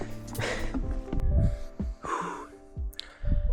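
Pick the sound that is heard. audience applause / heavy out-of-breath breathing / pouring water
heavy out-of-breath breathing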